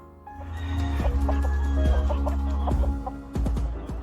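Chickens clucking close by, a busy run of short, overlapping clucks and squawks over a low background hum.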